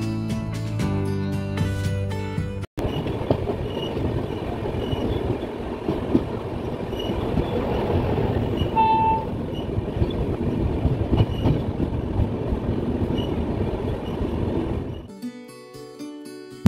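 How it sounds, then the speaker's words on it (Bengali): The 12041 Shatabdi Express rolls into Barsoi Junction with a loud, continuous rumble, wheel clatter and brief squeals that run for most of the time before fading, with musical tones at the start and end. "419 কিলোমিটার পথ পাড়ি দিয়ে আমাদের শতাব্দী এসে পৌঁছলো তার 5ম স্টেশনে, বারসই জংশন।"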